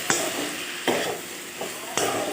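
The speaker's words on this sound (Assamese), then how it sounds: "ৰঙালাও আৰু আলু দি দিলোঁ। তাৰপিছত এতিয়া অলপমান লৰাই দিওঁ।" Pumpkin and potato chunks with tomato sizzle in a pan, a steady hiss of frying punctuated by about four scraping stirs of the spatula, close and fairly loud, with no talking.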